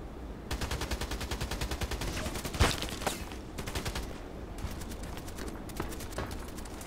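Rapid automatic gunfire in the Contract Wars shooter game, long bursts of evenly spaced shots with one louder crack partway through, steady and fairly close, no talking.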